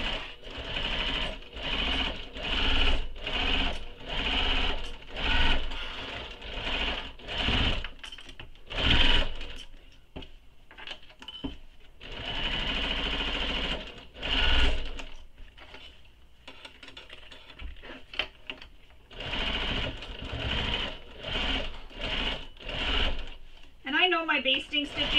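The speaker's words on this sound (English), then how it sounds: "So now I'm going to baste these together, and I'm going to use a longer stitch length for this because it is a basting stitch." Sewing machine running a long-length basting stitch on backpack fabric, repeated bursts of whirring stitching broken by short pauses, close and loud, with a person talking over it.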